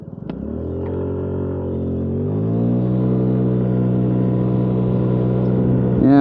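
Honda Ruckus scooter engine on a country ride, a steady, loud buzzing drone that climbs in pitch as it accelerates and then holds, with a brief rise at the end.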